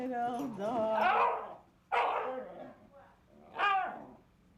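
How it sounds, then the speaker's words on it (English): Little dogs bark and yip in quick bursts, close and excited. A first flurry is followed by two separate sharp barks, with a faint background hum between them. "Uh-oh, uh-oh, uh-oh, little dogs."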